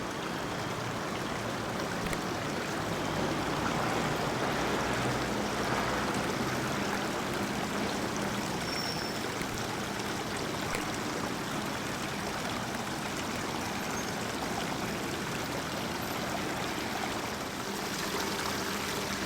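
Water overflowing into a small stream in a Japanese garden in Kanazawa, a continuous soft rushing and trickling that stays steady and moderately close throughout, with no voices.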